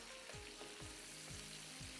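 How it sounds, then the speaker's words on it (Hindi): Chopped tomatoes fry in a pan with a quiet, constant sizzle, broken by soft, regular scrapes of stirring about twice a second. "ये इसी के साथ फ्राई होंगे अच्छे तरीके से। यूं करके हम इसको फ्राई करेंगे।"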